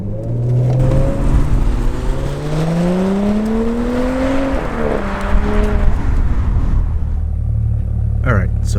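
A 354 hp Audi S5 accelerates hard in full manual dynamic mode, the engine climbing through several gears with rising revs and brief dips at each shift, loud and close throughout.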